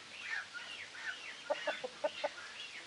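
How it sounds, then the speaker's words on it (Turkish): Farm chickens cluck softly nearby, with a run of short, sharp clucks in quick succession after some quieter warbling calls. "tavuk, horoz, kaz, beslediğim hayvanlar"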